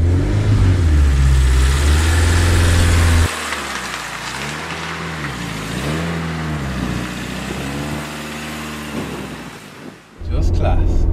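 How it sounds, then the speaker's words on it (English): Opel Kadett under restoration running with its engine idling a bit high, a steady loud low hum that dips and wavers in the middle stretch while a person talks over it, then returns to a firm drone at the end. "He's idling a bit high and all of it."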